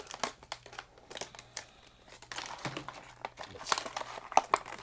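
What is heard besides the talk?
diecast car being unwrapped from its blister package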